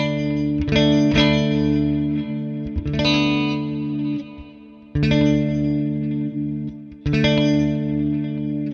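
Electric guitar run through a Neural DSP amp simulator with a mid-range bump switched on: thick, distorted chords with chorus shimmer strike in bursts, ringing out loud and sustained between short pauses, with no talking.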